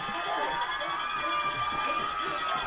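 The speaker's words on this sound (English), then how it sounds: "The fans are going wild." A crowd at a 2022 boys state lacrosse championship game roars after a goal, with a dense, continuous wash of cheering and shouting running under an announcer's talk.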